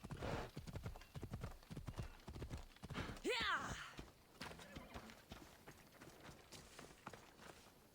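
Horse galloping in the video game Assassin's Creed, quick rhythmic hoofbeats with a sharp whinny partway through, then lighter clopping as voices talk over it.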